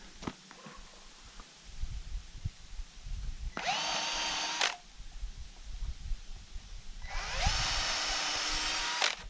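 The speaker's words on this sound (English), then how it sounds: "I have to pre-drill these for my nails" A power drill whines as it pre-drills nail holes in a porch board in two bursts of about a second and two seconds, with quieter handling noises and shuffling between them.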